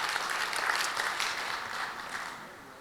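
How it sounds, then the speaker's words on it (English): A convention audience claps in a steady, moderately loud round of applause, fairly uniform before fading slowly toward the end. "Desultory applause for..."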